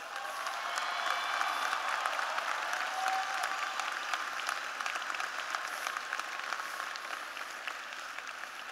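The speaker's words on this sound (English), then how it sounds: "please show the class of 2014 how proud you are of them with a round of applause" An audience at a community college commencement for the class of 2014 breaks into sustained applause, a dense, even wash of clapping from a large crowd heard from a distance without pause.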